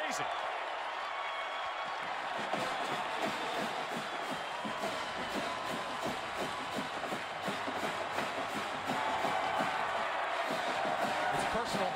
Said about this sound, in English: And the crowd that remains goes crazy.